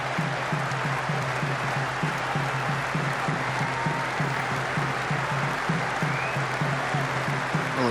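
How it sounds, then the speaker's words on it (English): Crowd applauding at Edgbaston cricket ground during a one-day international against England, dense sustained clapping from a large stadium audience at an even level throughout. "a great ovation from this Edgbaston crowd"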